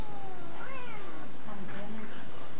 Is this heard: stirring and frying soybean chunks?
no